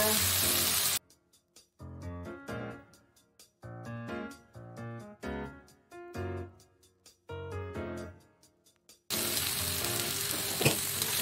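Oncom sizzles and crackles as it is stirred in a frying pan. The hiss is heard briefly at the start and again near the end, with a tuneful musical passage in between.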